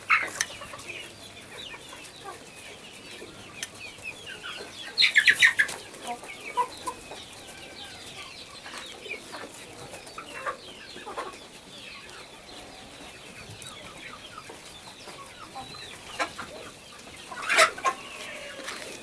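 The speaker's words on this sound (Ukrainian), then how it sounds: "Далматинець курочка." A Dalmatian chicken clucks among farm fowl, soft intermittent clucks with a couple of louder bursts, heard at moderate distance over quiet outdoor background.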